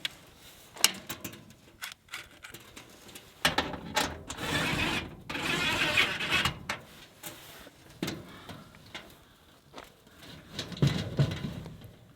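A nut is driven down onto a bolt joining overlapping steel panels of a Quonset hut under construction, giving bursts of ratcheting and clicking mechanical noise, close by, with pauses between runs.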